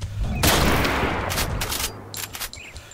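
Rifle gunfire in the video game Misery 2.1: a burst of sharp cracks and booms with rumbling echo over about three seconds, loud and dense.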